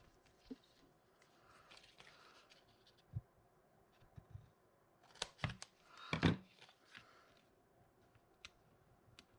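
Crafting material for a honeycomb bee project is cut down with scissors at a table, sparse quiet snips and scrapes scattered through near silence, with a louder cluster of cuts and handling near the end.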